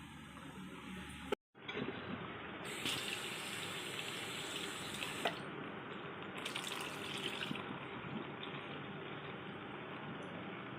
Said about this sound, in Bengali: এই যে ধুয়ে একদম পরিষ্কার করে নিলাম,